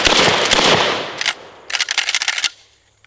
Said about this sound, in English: So here we go with the pump and the slam fire.